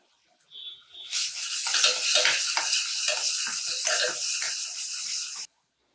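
Chopped onions drop into hot oil for a mutton curry, bursting into a loud, close sizzle with intermittent stirring scrapes that continues steadily for several seconds before cutting off abruptly.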